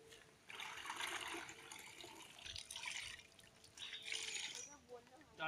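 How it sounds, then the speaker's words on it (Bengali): Water poured out during a water-saving demonstration in Hooghly, West Bengal: a splashing, rushing pour comes in several surges over a few seconds, with faint voices in the background. "জলটা ফেলবো"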